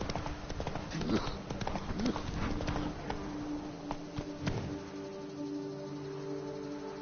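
Horse hooves clip-clop at a steady walking pace in The Witcher 3 game, close and clear over a low background, fading toward the end as a music tone lingers; a voice speaks briefly.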